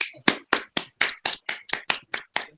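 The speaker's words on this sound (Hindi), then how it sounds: "अपने तालियों से इसका स्वागत करें।" An audience claps at a webinar event: about ten distinct, evenly spaced sharp hand claps in a short, crisp sequence, fairly close, with no talking.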